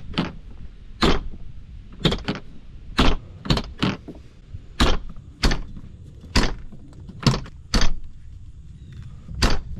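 Repeated shutting of a 2026 Can-Am Defender HD11 side-by-side's doors, about a dozen sharp, close thumps and latch clacks at irregular intervals, with faint rattles between and no talk.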